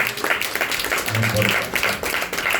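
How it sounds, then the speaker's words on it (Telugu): A congregation at an annual prayer meeting claps in a dense, continuous burst while voices carry over the applause. "చప్పట్లు కొట్టి ప్రభు నామాన్ని"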